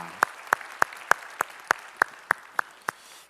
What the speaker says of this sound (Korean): 우리 찬양을 받으실 주님께 영광의 박수 올리겠습니다.